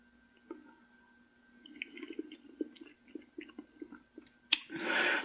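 Quiet, close chewing of macaroni goulash at a taste test, a string of soft wet bites over a faint steady hum, ending in a brief sharp knock and a louder rushing burst.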